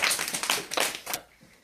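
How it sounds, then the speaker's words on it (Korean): A small group at the end of a business camp clapping briefly, a short burst of close, sharp handclaps lasting about a second before trailing off into quiet. "박수."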